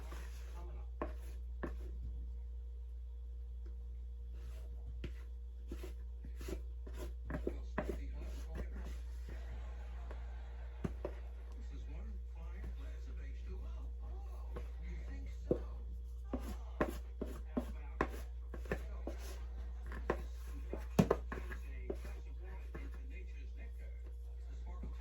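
Brownie batter is scraped into a greased 13 by 9 pan, giving soft intermittent scrapes and light spatula taps against the pan over a steady low hum, with sharper clustered scrapes toward the end.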